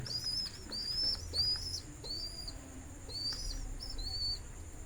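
Pigeons kept with a chick, producing repeated thin, high chirps in short bursts over a low, steady background rumble, close by and with no voices.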